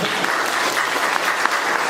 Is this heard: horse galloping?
no